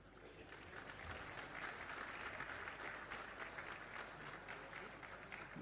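An audience at an Australian football medal presentation night applauding award winners, a steady, dense wash of clapping heard faintly and at a distance, rising slightly and holding throughout.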